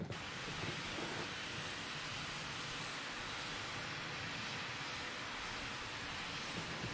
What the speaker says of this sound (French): Regardez l'avion. L'avion est un avion russe.